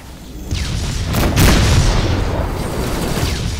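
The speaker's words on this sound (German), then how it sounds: "Das knallt ganz schön hier." A deep explosive boom from space combat in the Rebel Galaxy Outlaw video game swells to a loud peak, then fades into a long, heavy rumble, with no voices.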